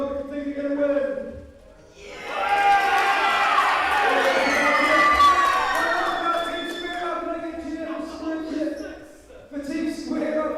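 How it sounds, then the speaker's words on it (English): A crowd cheers and shouts for a team at a Summer Showdown Cup match, a loud sustained roar that swells and fades, with a voice talking before it and again after it dies down. "Can I get a cheer for Freaky Dog?"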